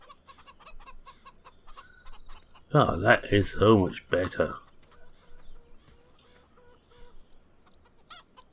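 Chickens cluck in a museum video game, a short burst of loud, busy clucking standing out between quieter stretches of someone talking.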